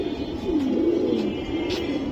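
A Mayna pigeon of an old breed coos close by, one low, rolling, throaty call that swells and fades over a couple of seconds, with faint background noise.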